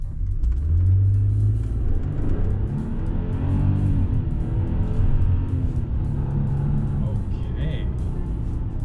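A 2023 Toyota Tundra idles as a steady low engine rumble under someone talking inside the cab, with a brief rising rev near the start.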